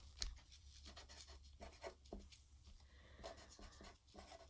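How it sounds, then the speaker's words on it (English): A marker writing a name across the top of a page, a run of quick squeaky strokes with short pauses between them, close but faint. "I'm going to go ahead and grab a marker. Here we go. I'll write my name at the top."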